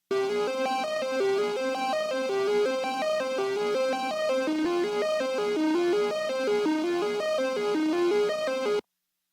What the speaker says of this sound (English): like a saw with two unison,